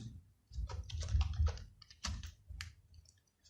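Keys are struck on a computer keyboard while an SQL query is typed into a SQL Server 2014 query window, a few quick close clacking bursts separated by short pauses, no voice.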